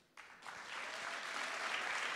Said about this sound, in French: j'espère qu'on va les applaudir très très fort ce soir